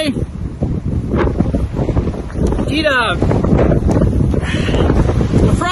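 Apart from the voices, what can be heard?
strong gusting wind in a snowstorm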